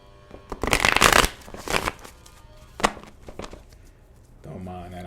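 Playing cards being drawn and unpacked nearby, with dense rustling and flicking in short bursts, followed by a few sharp taps and a faint voice toward the end.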